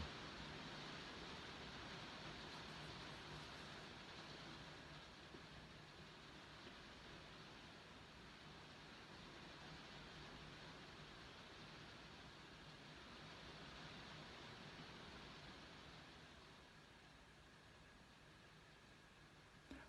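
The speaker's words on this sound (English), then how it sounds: "If you can hear the sound of rain, that is not static, that is actually rain." Steady rain falls throughout, a dense even hiss with no distinct drops standing out, constant and fairly loud for the whole stretch.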